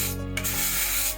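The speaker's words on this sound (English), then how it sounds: "Through a combination of scraping and wiping, I think I can get this thing clean." Scraping and wiping inside a boat fuel tank, a steady close rubbing and grating that runs continuously with a brief lull early on, no voices.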